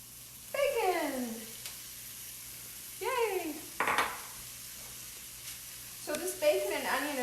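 Bacon and onion cook in a skillet with a soft, continuous sizzle underneath, broken by several short, sweeping vocal sounds that rise above the frying.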